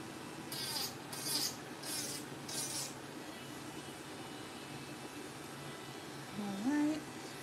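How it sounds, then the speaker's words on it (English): A nail file rasps against an artificial nail tip in four short, evenly spaced strokes, soft and close, followed by quiet room sound and a brief faint vocal sound at the end. "I'm adding some pressure underneath the nail tip when I am filing."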